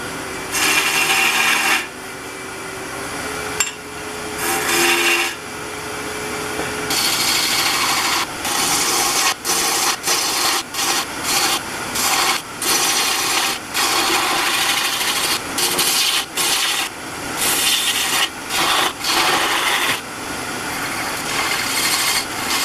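Sandpaper held by hand rasps against a wooden tulip spinning on a wood lathe, a loud continuous scratchy hiss that breaks off repeatedly in short gaps, with the lathe humming beneath.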